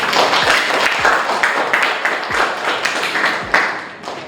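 An audience in a university teaching session claps for a group, steady applause with scattered individual claps standing out, fairly close and sustained before thinning toward the end.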